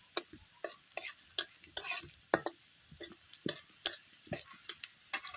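A ground paste of ginger, garlic, onion and chilli mixed with coriander and cumin fries with browned onions for ghugni, giving a soft sizzle under brisk, repeated scraping strokes of a spatula against the pan, close and fairly quiet, with no talking.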